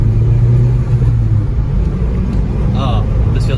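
Car pulling away from a stop with a low engine rumble rising steadily underneath, while people talk over it throughout.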